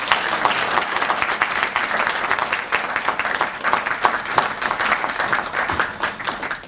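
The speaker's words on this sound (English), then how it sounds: "why don't we give her another round of applause?" A round of applause from the audience at a professorial inaugural lecture, dense and steady clapping from many hands sustained for several seconds with no talk over it.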